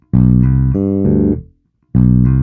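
Low plucked bass guitar notes ring out in a short country phrase using open G and open D, a few sustained tones that fade, then a fresh note starts after a brief silence.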